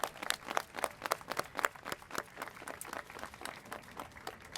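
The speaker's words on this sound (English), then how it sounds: "Let's give all of them a round of applause." A crowd applauding at a Louisville Pride Week event, lively irregular clapping from a modest group, moderately close, with no talk over it.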